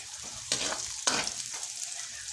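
Onion frying in a pan, a steady bright sizzle with two louder bursts of crackle as the pieces are stirred, close up and without voices.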